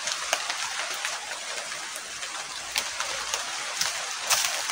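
Steady rain pattering on banana leaves in a grove, a dense close hiss of drops with sharper individual splats scattered throughout.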